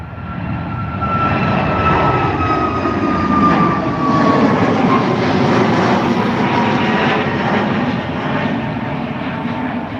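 A Malta Air Boeing 737 MAX 8 jet at Dublin Airport, bound for Madrid, roars loud and close, with a sustained engine rumble and a high whine that slowly drops in pitch.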